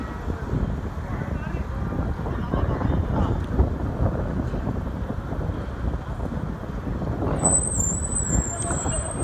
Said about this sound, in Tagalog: ayun guys super hangin kasi talaga